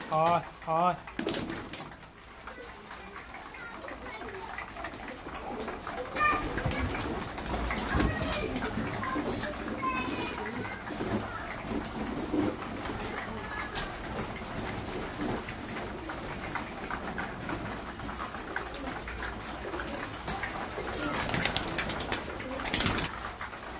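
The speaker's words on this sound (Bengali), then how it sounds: "ওদিকের পায়রাগুলোকে ঢোকাতে হবে, আর এই পায়রাগুলোকে খেতে দিয়ে দিব।" Pigeons coo and call in a loft during summer care, mixed with rustling and a voice calling to the birds, fairly close and steady throughout.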